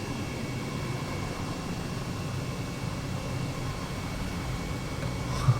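Airbus H135 helicopter engine in Flight Simulator 2020 at full throttle, a steady broad turbine roar and whine holding constant throughout, loud and continuous with no talk.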